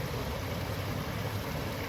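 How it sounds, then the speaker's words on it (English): Steady, broad rushing of a flowing river, a constant low wash of water with no breaks, heard alone with no voices. "Hopefully you guys can hear the flow of the river"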